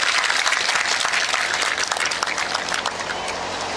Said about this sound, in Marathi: जोरदार टाळ्या वाजू द्या.